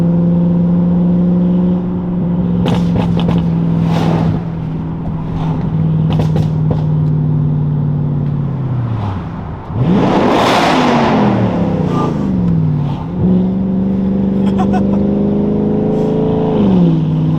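An Audi RS6 with a loud, raspy aftermarket exhaust accelerates through an echoing tunnel, engine note rising and dropping with gear changes and a sharp roaring burst midway.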